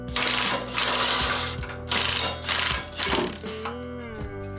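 Exhaust clamp bolts on an axleback and mid-pipe are loosened with 13mm and 15mm sockets, giving several loud, close bursts of rapid mechanical ratcheting separated by short pauses.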